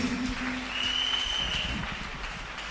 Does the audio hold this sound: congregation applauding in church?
yes